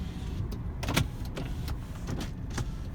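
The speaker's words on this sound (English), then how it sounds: "Power windows" Power window motor on a 2003 Saab 9-5 2.3t, steady whirring hum over a few seconds with a couple of faint clicks and thumps inside the cabin, no talking.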